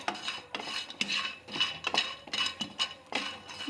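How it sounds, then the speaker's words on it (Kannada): Masala spices dry roasting in a pan while being stirred, rhythmic metallic scrapes and clinks of a utensil against the pan repeating about twice per second, close and clear with no talking. "ಇದು ಚೆನ್ನಾಗಿ ಪರಿಮಳ ಬರೋ ತನಕ ಉರ್ಕೋಬೇಕು"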